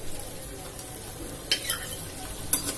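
A spoon stirs tomato masala frying in a pan, a soft steady sizzle with a couple of sharper scrapes and clinks against the metal, close by and with no voices.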